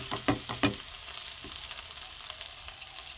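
Soybean balls fry in oil with a faint, steady bubbling sizzle, opening with a few sharp crackles and spatters as they go in, then settling into quiet frying with no speech.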